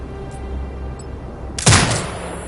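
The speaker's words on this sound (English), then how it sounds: "Once marked, you can execute the fire command anytime." A turret in Sniper Ghost Warrior Contracts 2 fires on marked targets, one sharp loud blast bursting out after a quiet stretch of low ambient game hum, then fading into a rumbling tail.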